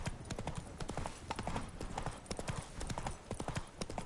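Roach, Geralt's horse in The Witcher 3, trots steadily, a dense, even clip-clop of hooves filling the whole stretch at close range.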